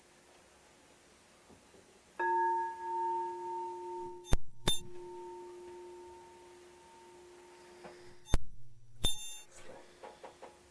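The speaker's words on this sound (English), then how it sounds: "We move into our Taizé this morning as we follow the bell inward." A bell struck to open a morning meditation and Taizé gathering, single clear tones with long sustained ringing decay, separated by pauses amid sharp clicks and a steady high electronic whine, no talking.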